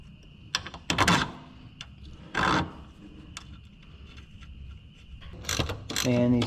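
A ratchet is worked in short bursts of clicking while a bolt is tightened during a wheel alignment job, with mechanical clunks between the bursts and a steady hum of shop machinery underneath.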